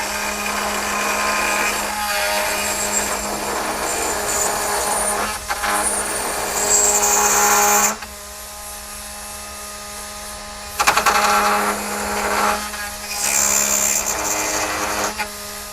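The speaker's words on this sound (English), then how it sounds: "You can pretty much use any bit that is abrasive, that way we can grind away that plastic piece." A rotary tool with a carbide bit grinds away a plastic piece on a Toyota truck part, giving a high steady whine that cuts off and restarts in several bursts of a few seconds each.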